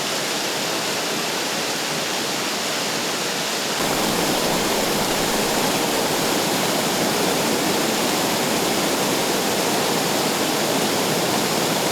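Günpınar Waterfall, formed on a fault-line slope break and fed by the Şuhul stream, roars in a dense, steady wash of falling water that grows louder after a few seconds, with no voices.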